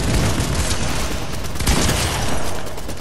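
Rapid, loud pistol gunfire from a Fortnite Creative WinterFest match: a continuous barrage of close shots and bursts filling the stretch with little pause, no talk over it.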